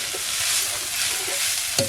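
Wild vegetable made from kuda flowers is stirred in a pan over a wood-fired clay stove, with continuous sizzling frying noise, a few soft scrapes and a sharp clink near the end, close and loud.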